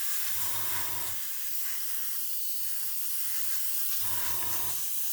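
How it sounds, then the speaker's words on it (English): Steady hissing spray of spray paint applied along a masking-tape edge continues throughout, with a low humming tone fading in briefly at the start and again near the end. "Go around the edge, spraying away from the masking tape."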